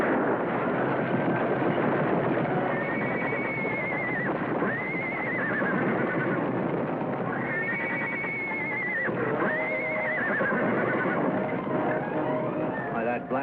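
A stallion whinnies repeatedly in a 1955 Western adventure scene, the rising and falling neighs heard over a dense, steady bed of galloping hooves, running noise and dialogue.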